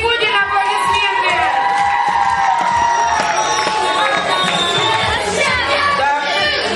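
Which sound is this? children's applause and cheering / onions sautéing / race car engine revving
children's applause and cheering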